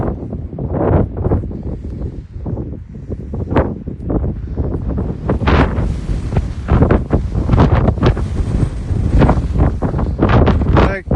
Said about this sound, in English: Gale up here. There were strong winds this morning. It's blustery today.